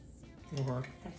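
Salad being tossed in a bowl with extra virgin olive oil, giving a brief clatter of utensils against the dish that swells in the middle of the short moment, close and fairly soft.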